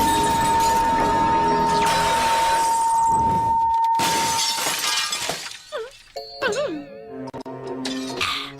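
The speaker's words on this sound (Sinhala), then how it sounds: "මට උච්ච ස්වරයෙන් ගායනා කරන්න පුළුවන් මගේ කටහඬෙන් මේ වීදුර බිඳෙන ගානට" In a cartoon, a sustained high-pitched sung note leads to a loud burst of shattering glass, then scattered tinkling shards and wobbly comic sound effects.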